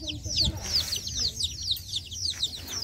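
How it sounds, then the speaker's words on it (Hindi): A hen at a village home in India clucks softly and repeatedly while chicks cheep in rapid high peeps throughout, close and busy, over low background noise. "और ये मुर्गी यहीं पे आराम से रहती है"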